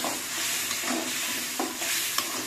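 Potatoes fry in a pan while being stirred, giving a steady moderate sizzle broken by a few short scraping clicks from the utensil.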